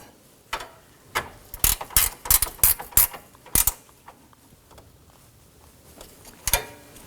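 A hand ratchet snugs down the bolts on a 2018-2024 Toyota Camry 2.5L engine cooling fan assembly, giving close, irregular bursts of quick metallic clicking with short pauses between strokes.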